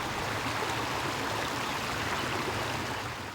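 Little Sugar Creek, an urban creek in Mecklenburg County, flows with a steady, close broadband rush of running water that holds constant throughout, with no voices.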